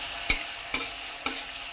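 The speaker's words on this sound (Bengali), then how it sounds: "এবার একটু হিং নিয়েছি, হিংটা দিয়ে দেবো তেলের মধ্যে।" Asafoetida dropped into hot oil already tempered with whole garam masala, cumin and tomato paste, giving a steady sizzle broken by three sharp stirring scrapes.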